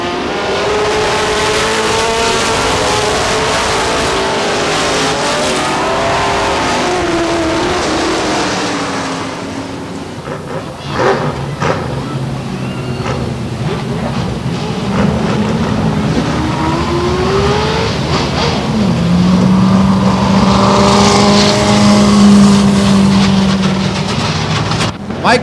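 Race cars at Star Speedway in New Hampshire roar past in a loud pack, engines revving and Dopplering as they pass, with a sustained droning rush that swells again near the end.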